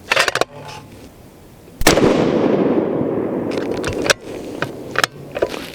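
A single loud rifle shot from a custom lightweight Terminus Kratos 7 PRC cracks out sharply, with a long booming echo rolling away afterward, amid a few faint clicks and handling noises before and after.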